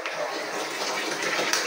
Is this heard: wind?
no